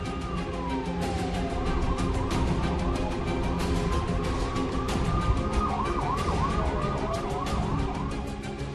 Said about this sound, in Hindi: सड़कों पर दौड़ती एम्बुलेंस।